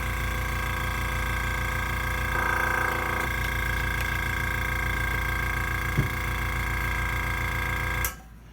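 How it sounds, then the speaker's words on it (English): An air compressor powering an airbrush runs steadily with a constant mechanical drone and rapid pulsing, close and loud, before cutting off abruptly near the end. "Sorry about the noise, but I got my air compressor hooked up, and everything's running on this."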